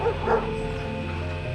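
Dogs bark and yip at a distance under a steady background hum, the barks short and muffled.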